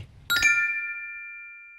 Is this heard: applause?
no